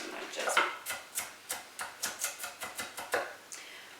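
A knife chops through an onion on a cutting board while cooking mushroom stroganoff, about a dozen crisp, evenly spaced cuts in a slow, steady rhythm, close and clear.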